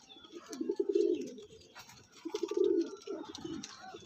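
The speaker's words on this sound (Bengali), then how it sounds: "তো বন্ধুরা এই একটা পায়রা দেখুন" Andhra breed pigeons cooing, two clear rounds of low throaty coos close by with a quieter third starting near the end, faint chirps in between.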